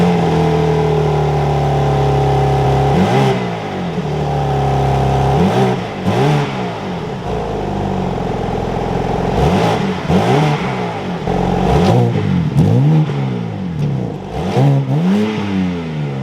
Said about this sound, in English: But let's fire up this special edition BMW.